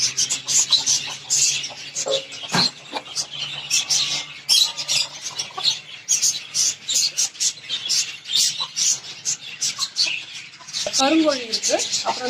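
Chickens on a rooftop terrace farm in Chennai, including black and Peruvidai breeds, cluck and squawk steadily close by, with busy overlapping calls and rustling throughout and a burst of louder squawks near the end.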